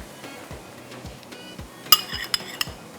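A metal spoon clinks against dishes in a kitchen, with a few sharp, bright taps clustered near the end after quieter handling noises, close and clear with no talking.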